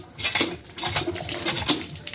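A worn-out tube-well hand pump, in poor condition, is worked in a quick rhythm of metallic clanks and squeaks, with each stroke repeating about every half second, close by and without voices.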